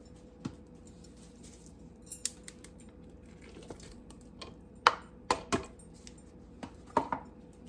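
Crab meat being stirred by hand with a spoon for crab rangoon egg rolls, heard as scattered light scrapes and clinks of the spoon against a bowl, sparse and irregular over a quiet room.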